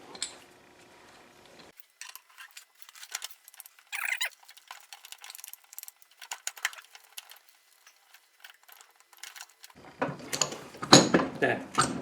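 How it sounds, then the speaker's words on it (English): Metal clicks and ratchet-like ticks come from bolting down the front cover of an LT230 transfer box fitted with an ATB differential. The sounds are sparse and close, then grow into a louder burst of clattering work near the end. "And then we can bolt it down."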